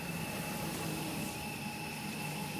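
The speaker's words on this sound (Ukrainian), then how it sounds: "Моторчик прокручується." Small electric motor on a flywheel log splitter built with a YaMZ flywheel spins up, giving a steady, loud mechanical hum with a sustained whine and no speech.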